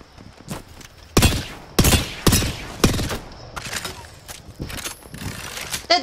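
Gunfire in the Apex Legends video game: five or six loud, sharp shots and short bursts crack at irregular intervals, close and prominent, over a low background of game noise.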